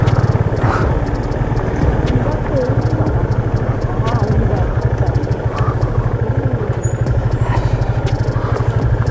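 Off-road motorbike engine during a forest ride in Simlipal, Odisha: a loud, close, steady low chugging that runs unbroken through the whole stretch, with a faint clatter on top.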